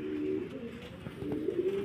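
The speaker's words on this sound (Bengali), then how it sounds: "কোকার ডাক শুনতেছেন" An Arabian koka pigeon, one of a kept pair, gives low, drawn-out coos over a steady background hum, close and moderately loud.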